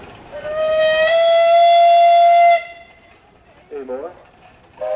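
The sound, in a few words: steam whistle of 1922 Russell steam traction engine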